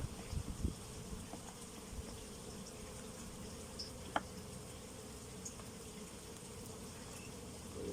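Honeybees hum faintly and steadily around an opened beehive outdoors, a low, continuous buzz with a few small clicks and knocks of handling.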